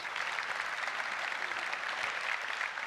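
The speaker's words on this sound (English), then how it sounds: "let's give him a round of applause" An audience at a tech conference gives a round of applause, a steady, even wash of many hands clapping, fairly distant and soft.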